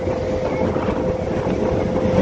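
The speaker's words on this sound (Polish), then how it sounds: "strasznie wiatr wieje" Strong wind roars and buffets continuously aboard a moving boat off Comino, Malta, with a steady motor hum beneath the gusts.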